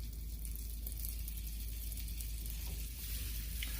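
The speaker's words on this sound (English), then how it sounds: "Put a couple of tablespoons of butter." Butter sizzles steadily in a hot pan as the base of a roux for gravy, served with lobster and grits. A constant, even hiss runs throughout with no talk.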